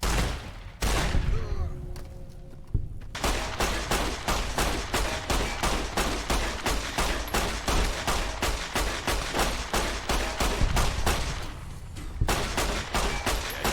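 Hip-fired weapon in the Fallout VR game, a long string of rapid, evenly spaced gunshots, loud and close, after a short opening burst and a pause, ending with a brief gap before a few more shots.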